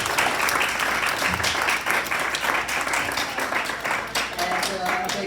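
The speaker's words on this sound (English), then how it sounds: "let's give a big round of applause for our speakers" Audience applause for the speakers at a book club program about the Santa Monica Pier, a dense, steady wash of many hands clapping that fills the whole stretch loudly and close.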